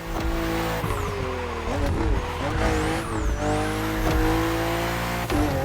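BMW M2 and M4 race cars on a narrow, twisting track in The Crew Motorfest, engines droning loudly and revving through gear changes, with tire squeal on the sharp bends, continuous and close throughout.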